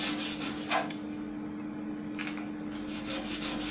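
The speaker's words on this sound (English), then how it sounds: "What I'm doing as well is I'm cracking the shell of the oxidizer on the weld." A tool rasps and scrapes oxidized slag off a fresh weld on an electric kit car frame, in uneven rubbing strokes close by with no talking.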